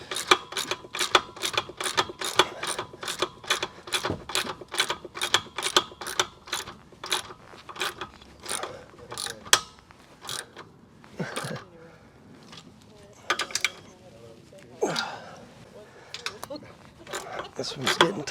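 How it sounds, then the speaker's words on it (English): New bolts being tightened on an electric tongue jack produce rapid, evenly spaced mechanical clicks up close, thinning into sparser, irregular clicks and knocks toward the end. "now I'm just installing the new bolts"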